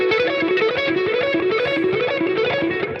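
An electric guitar runs through a fast pentatonic pattern with steady alternate picking, played through distortion and other effects, dense and continuous for the full three seconds with no talking.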